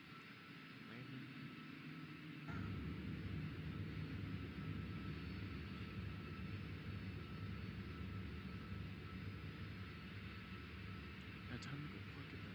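A fixed-wing airplane comes in to land, its engine a steady, loud drone that swells after a couple of seconds and holds evenly throughout.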